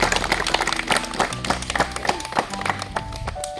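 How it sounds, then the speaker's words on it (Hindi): Loud, sustained clapping from a gathered crowd at a medical camp in a remote Naxal-affected area, honouring Dr. Sudhir Hisikar, with dense irregular hand claps running throughout and some voices mixed in. "एक बार जोरदार ताली डॉक्टर हिसीकर भैया की"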